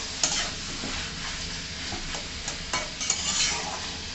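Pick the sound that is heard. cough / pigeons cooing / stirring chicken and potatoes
stirring chicken and potatoes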